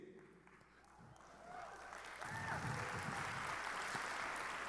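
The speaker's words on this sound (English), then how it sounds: "give yourselves a round of applause" Audience applause at a mayor's annual State of the City address, building from a quieter start into full clapping in a large room, with some voices mixed in.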